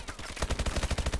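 Rapid automatic gunfire from a shooting video game, a fast steady burst of loud shots that begins after a brief quieter moment and runs to the end.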